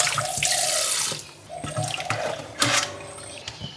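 Tap water runs steadily into a kitchen sink while a catfish is rinsed to wash off its slime, with splashing and gurgling shifts as the fish is handled under the stream; no talking.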